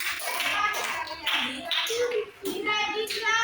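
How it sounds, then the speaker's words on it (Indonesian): Classroom applause from primary school children, a few bursts of clapping mixed with children's voices and chatter nearby. "Tepuk tangan untuk Desi."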